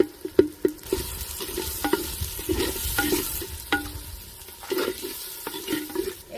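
Chopped tomatoes, peanuts, asafoetida and red chilli sizzle in hot ghee tempering for a khichdi, with a spoon stirring and scraping the pan in sharp irregular knocks over a steady frying hiss.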